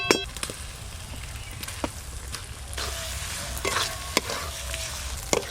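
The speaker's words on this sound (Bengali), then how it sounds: "এবার ভেজে রাখা কাঁচা টমেটো দেবো" Fried green tomatoes stirred into a spicy snakehead fish curry, a continuous oily sizzle with scattered spoon scrapes and sharp clinks against the pan, with no talk.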